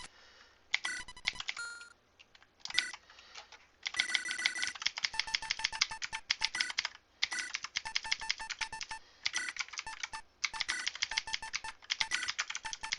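Fast typing clatters on a loud mechanical computer keyboard, crisp bright key clicks in rapid bursts with brief pauses between runs, close and alone with no voices.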